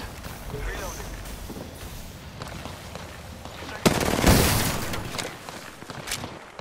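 Gunfire in the shooter game Apex Legends: a dense burst of shots erupts around the middle, loud and rattling for over a second, with scattered cracks before and after against a busy game backdrop and talk.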